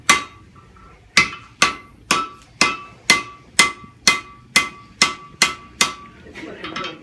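A blacksmith hammers hot steel while forging a gun barrel: about a dozen sharp, ringing metallic blows in a steady rhythm, close and loud, each decaying quickly before the next strike.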